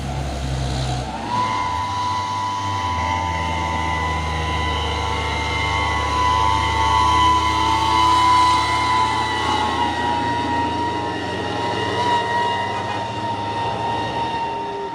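Heavy Hino trucks labor uphill with a loud, sustained engine drone and a steady high whine running through it, close by and continuous with no talk over it.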